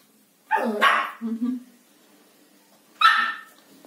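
Small dog yapping indoors at home: a quick burst of sharp barks near the start, a lower grumble, then one more loud bark after a pause, close to the listener.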